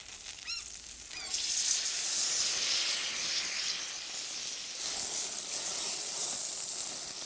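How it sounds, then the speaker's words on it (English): Fish simmering and steaming in fresh tomato sauce in a pan over a flame, giving a steady loud sizzle and hiss that swells a little after the first second and holds without talk. "they can not only simmer in the wonderfully fresh tomato sauce, but they can also steam in their own flavours and juices"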